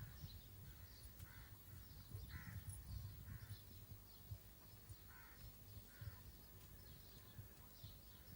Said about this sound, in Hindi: आज सुबह से ही कौवा मुंडेर पे क्यों बोल रहा है?